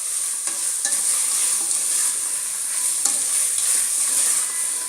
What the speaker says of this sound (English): add the garam masala, mix it well for a few more seconds.